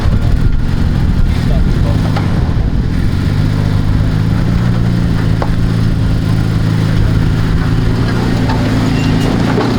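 A Toyota Tacoma pickup engine idles off-road, a loud, steady low rumble close by, continuous for the whole stretch with slight roughness.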